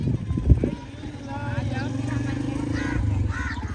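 A motorcycle engine runs close by with a steady low rumble under several people talking, arriving on the bike with family.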